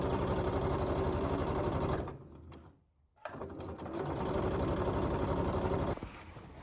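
A sewing machine stitches a layered blouse, running in a fast, steady close-up whir, pausing briefly to near silence, then starting up again at full speed.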